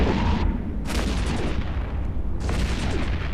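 A Prophecy ship under fire and blowing up in EVE Echoes: loud, dense booming weapon fire and explosions, with a few sharp blasts standing out over a constant heavy rumble.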